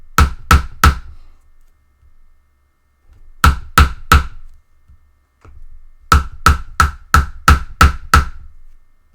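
A Japanese aluminium foil ball is struck with a hammer in sharp, close bursts of three and then seven rapid blows, separated by quiet pauses.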